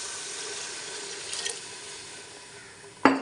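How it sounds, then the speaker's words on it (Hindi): Water is poured into a cooking pot of black chickpea curry: a faint watery rush, a brief splash in the middle, then a sharper pouring burst at the end. "अब हम इसमें पानी ऐड कर देते हैं।"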